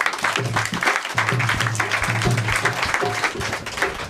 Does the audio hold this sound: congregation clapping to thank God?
yes